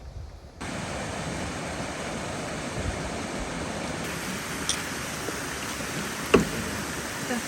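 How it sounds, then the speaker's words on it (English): A small waterfall hidden in the reeds beside a remote Michigan state park canoe route, a steady broadband rush of falling water, continuous and fairly close, with a brief knock near the end. "Definitely a waterfall for sure."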